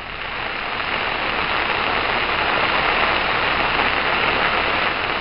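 Heavy rain pours down steadily during flooding, a dense, loud, continuous hiss of water hitting surfaces close by, with no voices heard.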